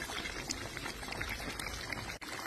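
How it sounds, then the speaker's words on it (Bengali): Lemon juice pours into a pot of beef tehari cooking in oil, a soft continuous bubbling and liquid hiss, quiet and close, with no talk. "এখন দিয়ে নিচ্ছে লেবুর রস।"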